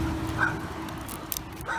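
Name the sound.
dog barking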